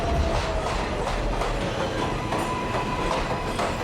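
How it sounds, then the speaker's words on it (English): New York City 7 subway train in motion, a loud, steady rumble with rhythmic clickety-clack from the wheels and a faint metallic squeal, heard from on or beside the train with no talk. "We hop on the 7 train."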